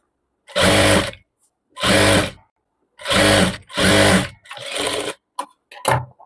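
An electric sewing machine stitches a three-tier layered frock with lace in several loud bursts of rapid needle whirring, each about half a second to a second long, separated by silent pauses; no voice is heard.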